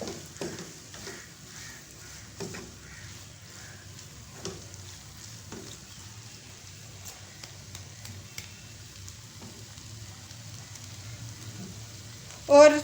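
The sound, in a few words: stirring garam masala into dal palak frying in a pan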